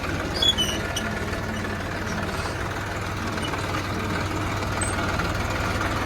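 A tractor engine idles in the open, giving a steady, continuous low rumble with a few faint bird chirps at the start.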